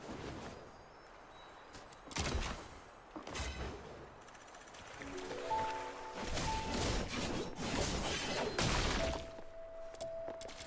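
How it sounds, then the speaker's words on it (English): Fireworks go off outdoors as a scattered series of faint, sharp bangs and crackles, heard at a distance against a quiet background. "There is a loud fireworks going off."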